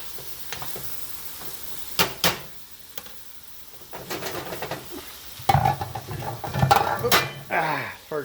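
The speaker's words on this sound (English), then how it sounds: "Stirring occasionally." A spoon stirs pork and squash simmering in a pot, with intermittent scraping and clattering strokes that grow busier toward the end over a soft bubbling background.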